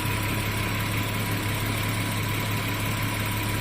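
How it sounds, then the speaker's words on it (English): Audi Q7 engine idling steadily with no change in pitch, a constant close hum and vibration that runs alone without voices. "It hasn't stalled at all since it's been running for 10 minutes."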